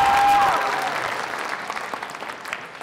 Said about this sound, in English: Let's give Bella one more round of applause, number four.